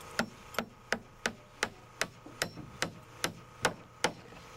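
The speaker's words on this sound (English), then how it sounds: "it's nice to have help when you're nailing off a floor by hand" A small hammer nails off a wood floor by hand, with about a dozen sharp, evenly spaced knocks at a steady rhythm, close and crisp, with no talking.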